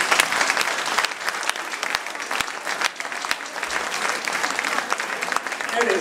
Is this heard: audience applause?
yes